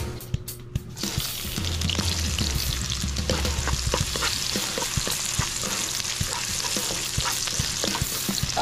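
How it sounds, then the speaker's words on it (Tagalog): Food sautéing in a hot pan: after a brief quiet start, a dense continuous sizzle and crackle with scattered pops and stirring scrapes, close and steady throughout. "Start na tayo mag-gisa."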